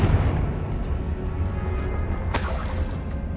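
In the Hogwarts Legacy video game, a Confringo blasting spell goes off with a sudden crackling burst about two-thirds through, loud and close over a constant low rumble of game ambience.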